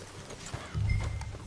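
Horse hooves clop in the western video game Red Dead Redemption, a short run of soft, muffled low thuds that thickens near the end, faint and set against a quiet ambient bed.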